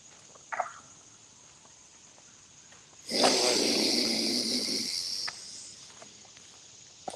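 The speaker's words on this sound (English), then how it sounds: "Pause. Slow exhale." A slow, drawn-out breath is let out close by during a guided breathing pause, a breathy rush lasting about two seconds after a faint earlier puff, over soft outdoor background hiss.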